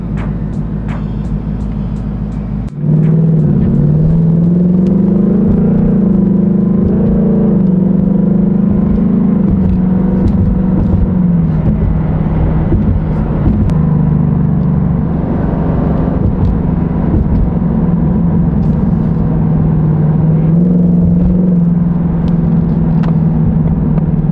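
Ford Mustang GT in Sport Plus mode driving on a street, a steady loud engine drone and rumble starting after a brief quiet moment and holding through the whole stretch with slight swells in pitch.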